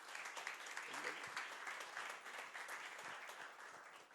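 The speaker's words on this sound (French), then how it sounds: "je vous demande d'applaudir François-Xavier Gouillet, s'il vous plaît." Audience applause at a sponsorship ceremony in Martinique, a dense, even patter of many people clapping that holds steady before easing slightly at the end, with faint voices underneath.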